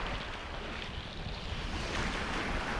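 Ocean surf at the water's edge makes a steady, dense wash of waves mixed with wind rumbling on the microphone, with no voices.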